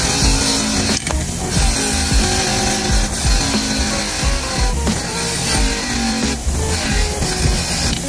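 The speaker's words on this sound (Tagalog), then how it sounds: "after pag-grind dito sa may bench grinder, so ito na yung itsura niya" A bench grinder scours carbon build-up off engine valves from a cylinder head, a loud harsh grinding rasp with surging scrapes as the valve is pressed against the wheel, steady and close, with no talking.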